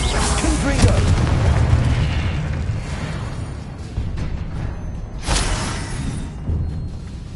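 Spell explosion in the video game Hogwarts Legacy, a deep booming blast with a rumbling low end, followed by another sharp burst a few seconds later, loud and close under continuous game noise.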